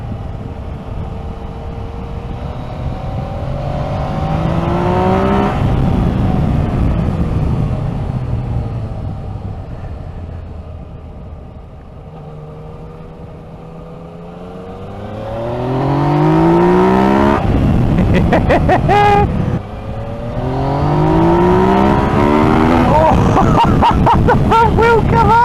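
A Yamaha MT-09 Tracer motorcycle accelerates hard in second gear from about 30 mph. The engine note climbs in loud, rising revving sweeps, eases off, then surges again through more rising runs, with wind roar throughout.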